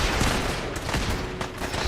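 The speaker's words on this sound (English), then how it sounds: "Stop shooting me!" Gunfire fills a Fallout 4 survival playthrough with a dense, rapid volley of shots and bursts that overlap in quick succession, loud and close.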